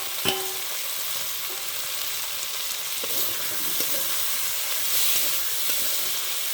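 Fried prawns sizzle in a pan with browned onion and spices, a steady broadband frying hiss with occasional utensil clicks and stirring, close and continuous, no talking.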